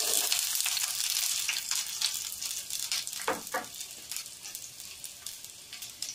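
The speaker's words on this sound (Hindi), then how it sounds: "हमारा ऑयल गरम हो गया है और इसमें प्याज डालेंगे" Onions hit hot oil in a pan for a Maggi noodle recipe, setting off a loud close sizzle that settles into a steady hiss with a few stirring scrapes, no talk.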